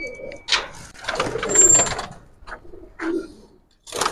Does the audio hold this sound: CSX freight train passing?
no